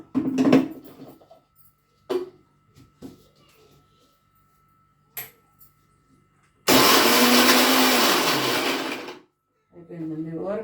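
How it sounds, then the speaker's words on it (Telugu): After a few clatters and some talking, a mixer grinder whirs loudly with tamarind for ivy gourd and green chilli chutney for about two seconds, its motor pitch dropping as it winds down. "ఫస్ట్ కొంచెం మిక్సీ పెడదామండి"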